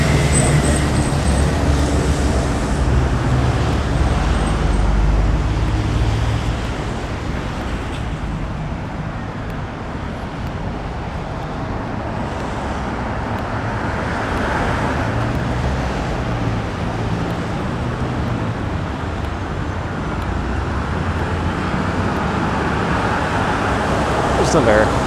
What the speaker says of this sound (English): Another Line 1 shuttle bus going south.